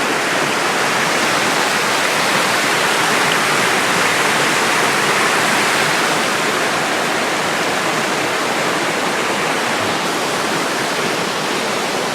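Raging Mousam River after a storm at Indian's Last Leap in Springvale, Maine, a steady, loud broadband roar of rushing whitewater that stays constant and close throughout with no voices.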